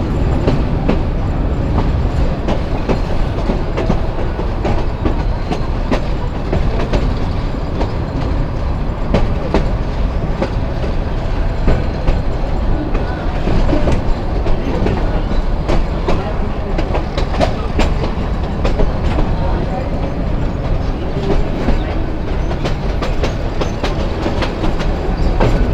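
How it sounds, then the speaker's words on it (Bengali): The Burimari Commuter train rolls loudly through a big curve near Lalmonirhat, with steady rumble and rhythmic clickety-clack of wheels on rail joints, close and continuous from on board. "ট্রেন কিন্তু বিশাল কার্ভ নিচে"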